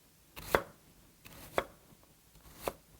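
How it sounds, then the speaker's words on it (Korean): Three evenly spaced knife chops slice through an onion on a cutting board, each a crisp close thud, in a quiet room with no talk. "그래서 양파 썰어 주시고"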